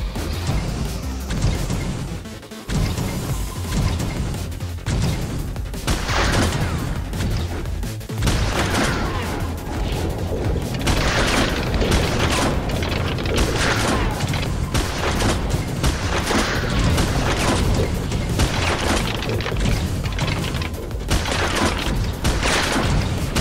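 Gunfire and heavy impacts from a slower, powerful weapon with a concentrated shot fill the Choke Point video game, loud and dense with booms, crashes and shot bursts running almost continuously.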